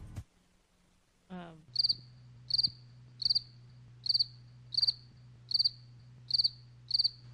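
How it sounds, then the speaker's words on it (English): A crickets-chirping sound effect plays after a brief rising electronic sweep, with eight evenly spaced chirps pulsing about every three-quarters of a second over a low steady hum, isolated and fairly quiet. "Crickets?"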